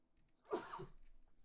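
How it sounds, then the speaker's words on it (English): One sharp, close sneeze bursts out in a quiet room, followed by a brief breathy tail. It is short and sudden against faint background. "Oh, I gotta sneeze."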